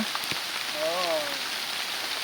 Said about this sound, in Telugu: ఒకసారికి వచ్చేసింది వానా